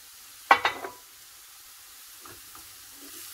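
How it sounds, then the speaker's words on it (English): Celery stalks dropped into a hot pan set off a sudden burst of sizzling that fades within half a second, followed by faint stirring clicks and a low background hiss. "So I'm going to add the stalks of celery to it."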